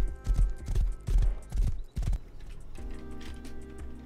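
A horse in a video game, likely a survival game set at an abandoned military base, gallops with loud, close hoofbeats for about two seconds, then falls quiet into softer ambient game sound.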